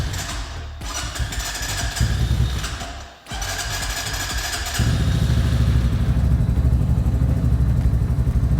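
A cheap Walmart sport motorcycle cranks over with clattery bursts, briefly catches and stumbles, then settles into a steady, loud, buzzing idle that runs on without talk.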